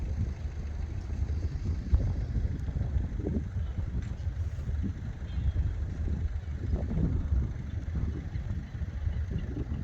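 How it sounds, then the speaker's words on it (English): Steady wind rumbles and buffets continuously at a quay fishing pier on the south coast, a dense low roar close up with no pauses and no speech. "Wind's still behind us, so that's good, giving us a bit of distance still."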